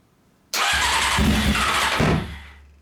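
A Honda CBR600 motorcycle engine cranks during a start attempt: a sudden loud burst of roaring combustion that holds for about a second and a half, then fades away, close by and with no talking.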